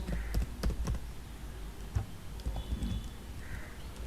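Code is typed on a computer keyboard in quick, close, uneven bursts of clicky keystrokes, with brief gaps between them and no talking.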